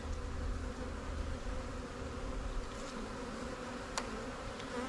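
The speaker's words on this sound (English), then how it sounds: "scoot these bees out of the way" Honeybees buzzing around an open hive of a rescued bee tree colony during feeding with a sugar brick, a steady close, dense drone with a brief sharper sound near the end.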